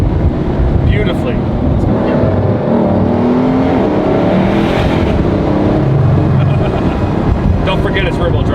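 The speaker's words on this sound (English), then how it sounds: "I just punched it down the back street, spun the tires" A flood-rebuilt Bugatti Veyron's engine roars loudly and continuously as the car accelerates, a dense, sustained drone close to the cabin, with voices talking over it.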